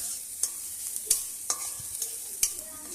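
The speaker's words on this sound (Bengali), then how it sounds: "ভালো করে পেঁয়াজ পেঁয়াজ আর লঙ্কা দিয়ে ভাজা হচ্ছে" Onions and chillies frying in a pan for chow mein, a steady crackling sizzle broken by sharp stirring clicks and scrapes at irregular intervals.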